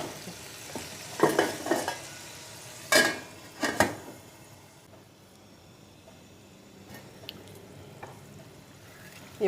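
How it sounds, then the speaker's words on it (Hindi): A spoon scrapes and stirs through thick tomato masala in a pot in a few short bursts, over a soft, steady sizzle. "बस 1-2 चम्मच चला के हम इसके ढक्कन लगा देते हैं"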